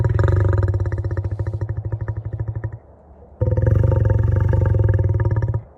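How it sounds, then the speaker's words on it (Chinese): A male lion roars in two long, deep bursts, each a rapid pulsing rumble, loud and close, separated by a short breathy pause. "这是雄狮，它的叫声是这样的。"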